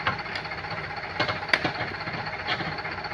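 A tractor engine runs at a steady, fairly quiet level, giving a rough mechanical rumble with a few sharp knocks and clanks scattered through it.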